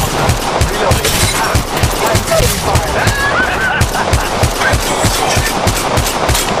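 Relentless automatic gunfire in the Apex Legends Mobile battle royale shooter pounds in rapid, evenly spaced loud shots throughout, a dense close fusillade with faint voice chatter mixed beneath.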